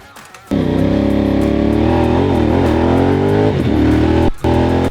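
A Moto Morini X-Cape 1200 motorcycle roars into a hard acceleration after a brief quiet moment, its loud engine note climbing steadily, then cutting off briefly for a gear change before pulling again.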